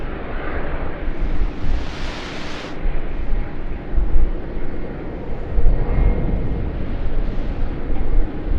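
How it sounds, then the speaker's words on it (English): A Thai Airways Airbus A350 airliner at Sydney Airport gives a broad, rumbling jet roar, with a brighter hissing surge near the start that fades off, and the low rumble carrying on steadily with no talk. "we have Thai Airways give us an A350"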